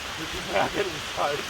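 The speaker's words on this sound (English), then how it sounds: "It's raining." Rain falls steadily during a bike-packing trip, a soft, continuous patter heard close by, with a few brief muffled voice-like sounds over it.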